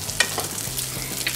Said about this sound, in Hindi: एक 2 मिनट के लिए हम प्याज को भून लेंगे थोड़ा सा।